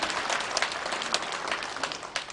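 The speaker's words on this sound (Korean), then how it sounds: "박수 한번 쳐주세요." Steady applause from an audience at a Buddhist dharma talk with a guest monk, dense, continuous clapping filling the whole stretch at an even, sustained level with no voices over it.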